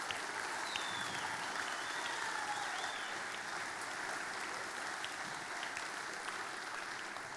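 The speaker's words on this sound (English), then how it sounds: "Let's give them a massive round of applause." An audience at a young farmers' competition grand final applauds district and regional teams, a steady sustained round of clapping filling the hall without talk.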